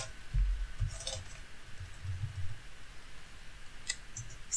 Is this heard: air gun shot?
no